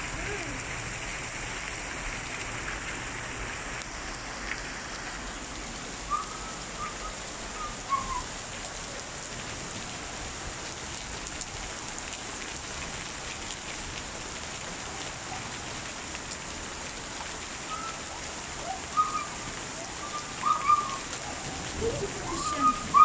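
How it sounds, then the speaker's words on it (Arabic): Rain mixed with hail falls steadily on surfaces outdoors in a storm, a constant dense patter with sharper impacts near the end, and faint bird coos in the background. "بس المطر. المطر والتلج."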